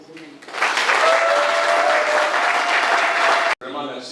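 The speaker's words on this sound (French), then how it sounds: "Applaudissez pour vous-même" Participants at the close of a training course applaud themselves, a dense, loud burst of clapping that swells quickly, holds for about three seconds, then cuts off as a voice resumes.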